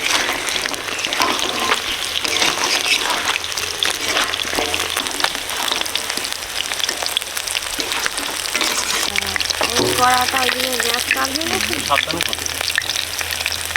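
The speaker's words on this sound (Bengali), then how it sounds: "মাছ ভাজা হয়ে গেছে তুলে নিচ্ছি" Gangbogo fish frying in hot oil makes a loud, dense, steady sizzle and crackle that runs close and unbroken throughout, with faint spattering and no clear voice.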